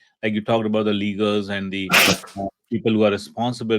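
One sharp, noisy sneeze bursts out between stretches of a man's conversational speech during a podcast discussion, close and fairly loud, with talk resuming right after.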